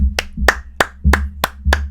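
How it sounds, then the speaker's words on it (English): Hand clapping for the players after a game in a Battlezone tournament: six slow, evenly spaced, close claps, sounding like a single person rather than a crowd. "Again, a round of applause."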